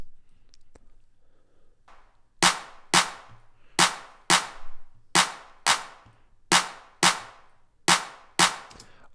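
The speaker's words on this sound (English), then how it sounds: "And let's switch to the main clap." Drum clap sample playing in a mix, a dozen sharp, crisp hand-clap hits in a steady rhythm, each with a short decaying tail, heard alone over a faint low background.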